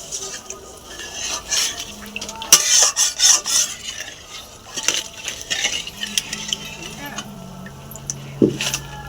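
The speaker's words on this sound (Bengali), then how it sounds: "এবার আমি এতে জল দিয়ে দেবো।" Water is poured into a pan of sautéed spice paste for a rohu fish and poppy seed curry, bringing scraping clinks of a spoon against the pan and a soft sizzle, with someone talking over it.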